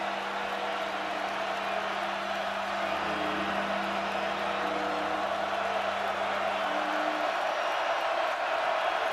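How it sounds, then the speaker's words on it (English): A large crowd of West Virginia football fans cheers in the stadium at Morgantown during a big third down for the defense, a steady, loud roar of voices and whoops that holds for the whole stretch. "these fans are on their feet. They're cheering loud."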